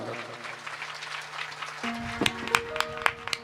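Applause from the audience at a live Shrimad Bhagavat Katha gathering in Bhilai, Durg, swelling into louder, sharper clapping as a steady tone sounds underneath.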